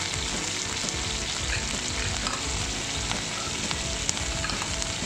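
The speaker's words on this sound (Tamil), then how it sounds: "உளுந்தம்பருப்பும் கடலைப்பருப்பும் போட்டு வறுத்துட்டு அடுத்து கருகவேப்பிலை," Urad dal, chana dal and curry leaves frying in hot oil for guava chutney, a dense continuous sizzle with crackling pops and stirring scrapes, close and steady, no voices.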